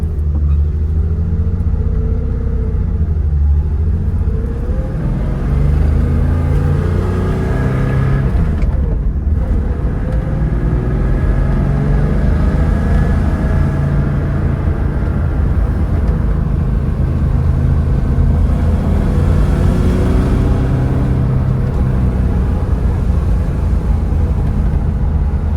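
A 1969 Porsche 911T driving, its air-cooled flat-six rumbling loudly and steadily from inside the car, rising and falling as it accelerates and shifts, with no talk.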